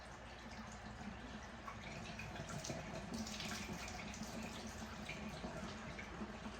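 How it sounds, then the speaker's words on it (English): Steady rush of hot water pouring from a kitchen faucet, continuous and fairly close, with no voices. "our water comes out of the faucet so hot that I never have to warm it up"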